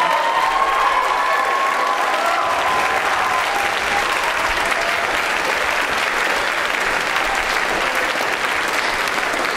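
An audience gives sustained applause for Dr. Bailey, the music director at an upper school recitation. The clapping is dense and steady throughout, loud and unbroken, with faint crowd murmur mixed in.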